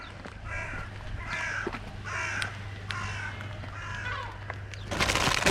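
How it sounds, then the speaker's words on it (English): Several crows caw in short repeated bursts at moderate distance on a rainy day, with steady rain and a low hum beneath, and a louder noise burst at the end. "Look at our little crows."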